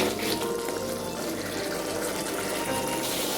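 Water pours steadily into a cooking pot of potatoes and spices for a Bengali bata fish curry, a continuous close splashing rush without pause and no voices.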